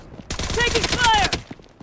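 Rapid bursts of video game gunfire in Blood Strike ring out loud and close for about a second, mixed with game voice callouts and effects, then fade to quieter trailing shots.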